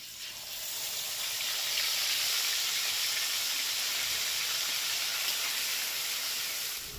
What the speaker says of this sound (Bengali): এবার দিয়ে দিচ্ছি যে মশলাটা বাটলাম ওটা